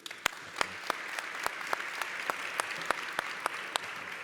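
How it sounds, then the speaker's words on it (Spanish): Applause from a conference audience sending off a panel of speakers, a modest room-filling patter with a few sharp individual claps standing out at a steady pace. "les invito a despedirles con un gran aplauso"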